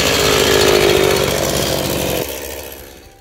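A Stihl chainsaw, one of the MS 180, MS 231 or MS 311 models, runs loud and close with a high buzzing whine, then drops off sharply toward idle and fades near the end.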